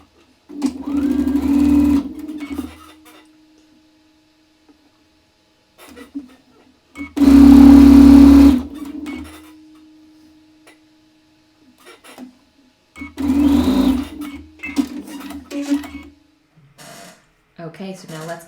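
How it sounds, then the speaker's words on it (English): A sewing machine stitches quilt segments together in three separate bursts, the motor whirring steadily and loudly up close, with quiet handling noises and pauses between runs. "so let's get sewing"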